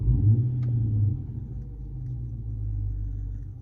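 A low Dodge Charger R/T engine rumble swells briefly, eases off, then builds again, like a throttle being blipped at idle, with a throttle response controller fitted.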